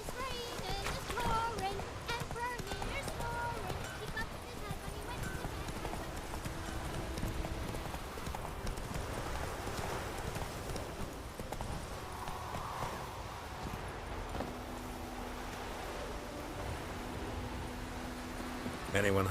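Hooves clip-clop steadily as a horse runs in The Witcher 3, a continuous rhythmic gallop beneath game music and ambience, with a voice speaking over it.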